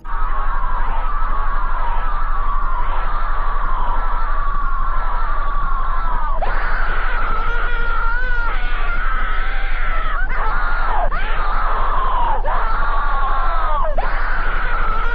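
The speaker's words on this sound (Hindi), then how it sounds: "एंड में जब एक औरत के चिल्लाने की आवाज आती है" A woman screams in a distorted, cursed-style internet clip, long wavering shrieks repeating over a constant low hum, loud and harsh with no other talk.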